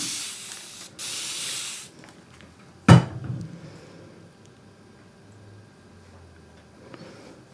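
Two bursts of fine water spray hiss from a pump bottle onto acrylic paints, each lasting about a second, followed by a sharp knock and quiet background.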